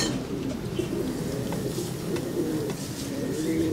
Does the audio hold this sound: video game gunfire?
no